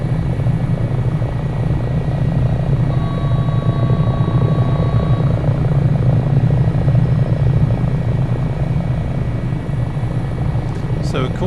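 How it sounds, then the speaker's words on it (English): A simulated HH-65 Dolphin Coast Guard helicopter in MSFS 2024 flies near Valdez, Alaska, its loud, steady rotor and turbine drone continuous and close throughout. "just hear the gorgeous sounds of this helicopter"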